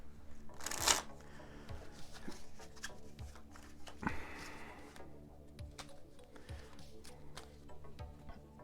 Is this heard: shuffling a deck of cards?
yes